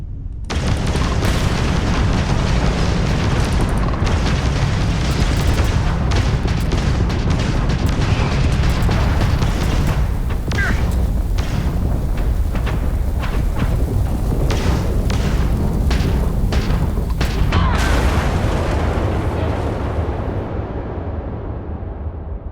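Spaceship weapons fire and explosions in a Starfield space battle: loud, dense booms and bursts with a rapid run of sharp shots in the middle, continuous rumbling throughout before fading out at the end.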